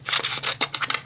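Scissors snip through paper in a quick series of close, crisp cuts, about six or seven sharp strokes in a second with no talk.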